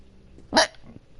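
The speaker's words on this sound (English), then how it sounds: "Excuse me, that was a hiccup" A single short hiccup from a person, a sharp, brief burst in an otherwise quiet room, with faint low background sound before and after.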